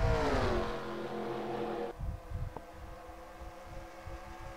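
Stock cars race at Darlington in the NASCAR Racing 2003 video game, a loud engine whine rising in pitch, then dropping away into lower pulsing engine drone.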